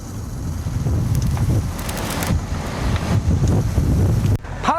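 Strong wind buffets a fishing boat at sea, a continuous loud roar of gusts and wind noise with wave wash, steady throughout and dropping briefly near the end.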